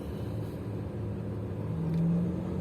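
A car driving through heavy rain on a Swedish road, a steady engine rumble and tyre hiss holding constant throughout, with a slight swell in engine tone toward the end.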